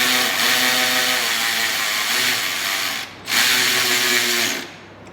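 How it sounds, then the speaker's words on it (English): A power tool with a socket whines steadily while tightening a fastener during an accessory install on a CFMOTO IBEX 800 motorcycle, two loud close runs split by a brief pause. "I'm going to tighten it up, while applying pressure to make sure that this expands evenly."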